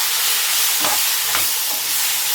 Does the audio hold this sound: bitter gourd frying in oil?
yes